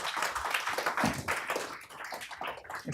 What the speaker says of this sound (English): Please give them a nice round of applause to get them warmed up.